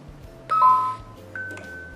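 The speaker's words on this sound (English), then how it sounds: "The Simplisafe door chime is like this," A SimpliSafe home security door chime sounds two short electronic tones, a bright ding followed by a second higher note, clear and close in a quiet room.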